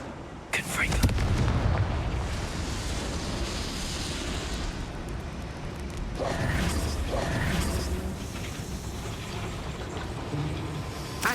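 A Confringo blasting spell erupts in Hogwarts Legacy, a booming burst followed by creaking, mechanical rumble and debris, with a second swell later amid game ambience and a voice speaking.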